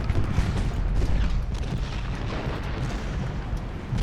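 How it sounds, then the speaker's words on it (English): Cannons fire solid shot in the Civil War strategy game Ultimate General: Gettysburg. The clip is a continuous dense rumble of artillery booms and battle noise, loud and unbroken throughout, with no clear gaps between shots. "Let's get these on solid shot and firing in."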